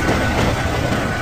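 A train rumbles steadily over a big bridge, a close, continuous rolling roar with no clear breaks.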